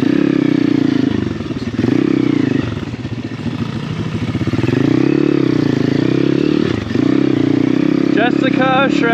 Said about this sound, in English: Jessica shredding her XR. Up the hill we go